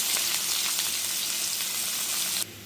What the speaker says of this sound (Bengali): পেঁয়াজ প্রায় ভাজা ভাজা হয়ে এসছে